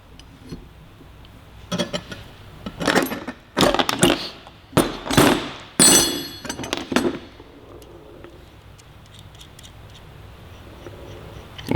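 Wrench clicks and metallic clinks while loosening the jam nut on a K-Tech Razor-RR rear shock for a Yamaha R3, using a 22 mm wrench: several sharp bursts in the middle, close and fairly loud, with quiet gaps between.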